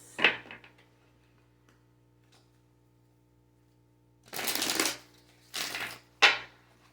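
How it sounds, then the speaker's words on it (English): A deck of Kali oracle cards is shuffled in a quiet room, with a brief riffle at the start, then two longer papery shuffling bursts and a final quick flick, close and soft. "I'm going to pull some Kali cards."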